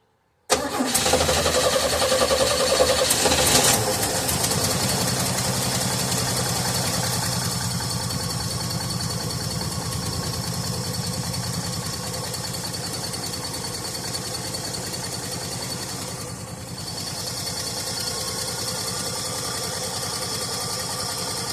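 A 1982 GMC square body truck engine cranks and catches, then settles into a steady, loud idle that runs on without a break for the rest of the stretch.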